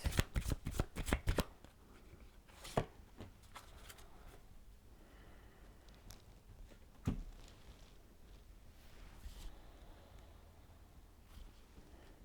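Romance Angel Oracle cards are shuffled in a quick burst of crisp riffling at the start. Softer scattered card handling and faint rustles follow in a quiet room.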